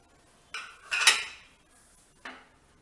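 Roasted prawns being tipped into a pressure cooker of biryani, with a few clinks and scrapes of a metal spoon against the pot, spread across a couple of seconds with quiet gaps between.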